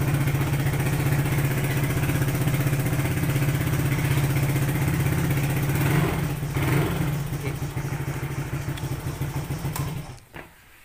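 Honda Click 150i scooter engine idling steadily up close, a continuous low mechanical hum with a slight dip midway before cutting off near the end.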